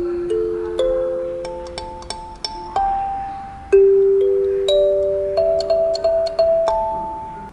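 A kalimba plays a simple beginner exercise, single plucked metal tines ringing out one after another in a slow, steady stepwise phrase, each note decaying softly, close and clear with no talking.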